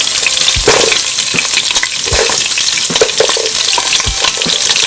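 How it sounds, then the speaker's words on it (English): Carrots sautéing in a pot for Texas-style oxtail caldo, with loud, close sizzling and several thumping scrapes of a spoon stirring at intervals. "I like to saute everything"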